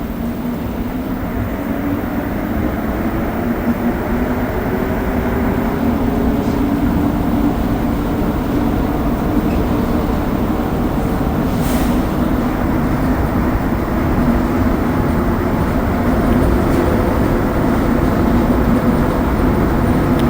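A Montreal STM metro train rides along the track, a steady, loud low rumble and rolling drone heard from inside the car, continuous throughout with no talk.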